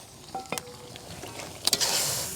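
Meat karahi frying in a pan with yogurt being stirred in, a soft sizzle running throughout, scraping stir strokes near the start and a louder burst of sizzling toward the end.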